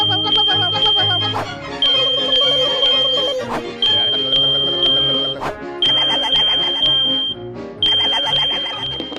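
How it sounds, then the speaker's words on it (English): A home smoke alarm sounds after its test button is pushed, giving shrill, high-pitched beeps in repeated bursts over background music. "You need to test your smoke alarms every month."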